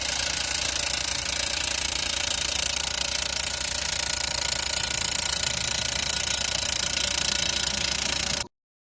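A large Direct Push drilling machine hammers into soil to take samples, a loud, dense, continuous rattling pound with a mechanical engine drone beneath that stops abruptly at the end.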